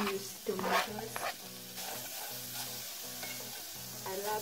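Onions sizzle in a hot, dry sufuria while being stirred for a traditional African vegetable dish, with soft scraping strokes over a steady low frying hiss and faint background music.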